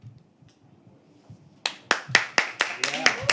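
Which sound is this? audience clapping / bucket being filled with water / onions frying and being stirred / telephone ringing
audience clapping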